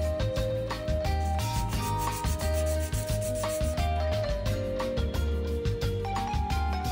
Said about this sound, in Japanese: 180番のサンドペーパーで整えます。